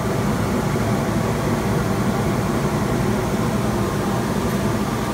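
Laser cutter machine running together with its pump, a loud steady mechanical hum and broadband whir that holds constant throughout, with no talking.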